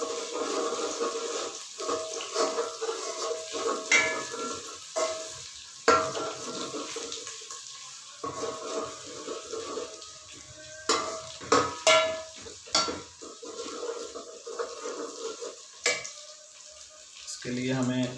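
Mixed vegetables frying and being stirred in a pan over a village wood fire, a steady sizzle with scraping stirs and clinks throughout, fairly close, with occasional voices in the background.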